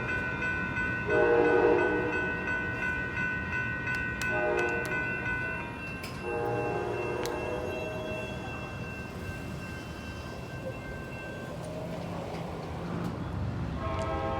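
An Amtrak passenger train rolls by in Oakland with a continuous rumble, its horn sounding a few times early on before fading to steady track noise.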